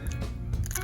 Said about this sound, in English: You love eating red peppers like that, right?